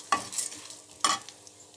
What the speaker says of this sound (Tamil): கடலை பருப்பை மட்டும் சேர்த்து முதல்ல ஃப்ரை பண்ணிக்கலாம்